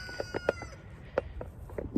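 Chickens cluck in short, separate bursts, several sharp calls spread over a couple of seconds against a quiet outdoor background, close to the listener.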